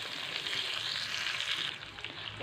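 Stuffed bitter gourd fries in a pan with reddened garlic, giving a steady, close hiss of sizzling oil that holds evenly before easing slightly at the end.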